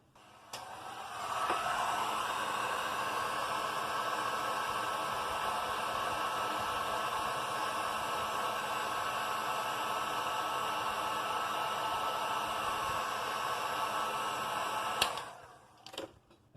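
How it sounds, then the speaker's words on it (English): Heat gun shrinking heat-shrink tubing over wiring on a micro FPV drone, a steady close blowing hiss running without a break for about fifteen seconds, then cutting off with a few clicks. "So we'll go ahead and heat shrink that."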